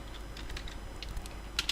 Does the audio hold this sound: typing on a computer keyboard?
yes